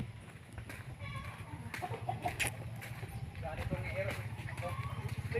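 Chickens cluck and call in the background while people talk over them, a steady busy mix of bird sounds and voices outdoors.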